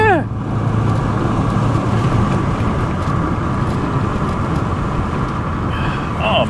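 A 1959 Dodge Coronet rolls along with a steady, loud road and engine rumble heard from inside or close by, a continuous drone with faint squeaks near the end and no clear talk.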